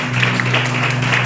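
A church congregation claps steadily in praise, a dense continuous patter of many hands mixed with a sustained musical hum.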